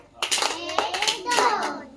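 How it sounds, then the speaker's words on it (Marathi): A group of children claps hands in a few quick, sharp bursts, mixed with their high-pitched voices calling out together nearby. "चला, 2 टाळ्या"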